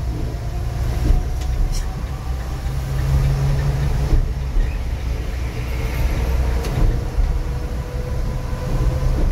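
A Volvo double-decker bus engine drones smoothly and steadily while the bus drives along, a continuous low rumble with road noise and occasional faint rattles and clicks.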